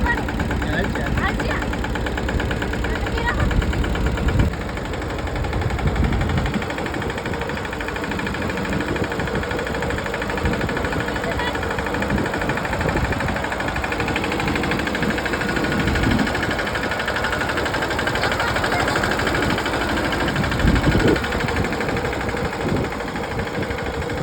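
A tractor engine runs steadily throughout, a loud continuous idle-to-working drone with some knocking texture, driven by a first-time driver in a village, with voices talking over it.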